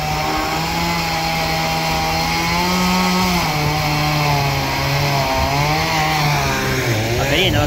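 A chainsaw runs steadily close by while cutting excess wood during roof work on a rustic island cabin, its engine holding a loud buzzing whine with slight pitch dips as it bites.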